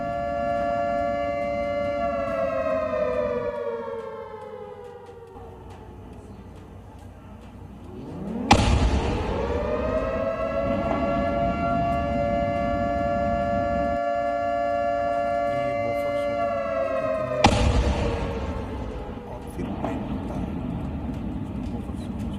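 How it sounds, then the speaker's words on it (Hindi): Civil defense sirens in the Neelum Valley wail loudly, their tone rising and falling in long sweeping cycles that overlap, steady and droning throughout. "नीलम घाटी का एक वीडियो है जिसमें बहुत जबरदस्त तरीके से सायरन की आवाजें आ रही है"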